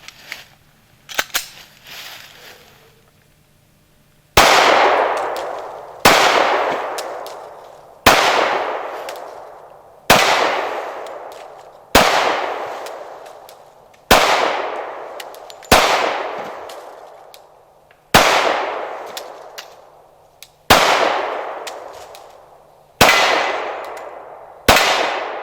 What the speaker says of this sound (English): we're gonna shoot some Federal HST 230 grain plus P